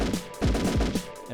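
Rapid gunshots from a Sega Dreamcast light gun shooting game, a quick run of about four punchy, booming bursts at an even rhythm, loud and close with no talk.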